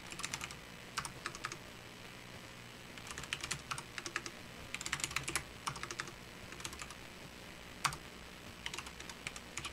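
Someone types on a computer keyboard in Xmind, light irregular key taps in short bursts with pauses, quiet and close against a soft background hum.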